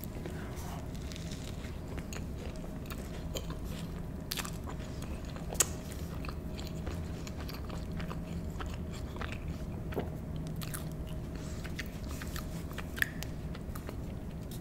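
Crunchy bites and steady chewing of a taco with a hard shell and a soft shell held together by cheese, close and quiet over a constant low background hum, with a couple of sharper crunches standing out.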